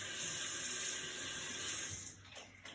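Warm water runs from a tap into a sink for hand washing, a steady close rush that thins and breaks up just before the end.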